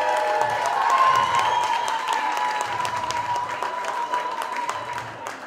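Warm round of applause from an audience at a season-final show honoring graduating seniors, continuous dense clapping with light cheering, strongest early and tapering slightly near the end.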